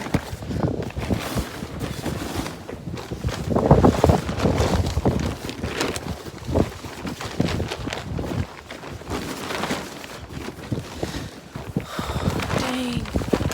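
Strong gusts of a windstorm batter and flap a loose tarp outdoors, a continuous roar of wind with irregular rustling and buffeting bursts throughout, close to the microphone.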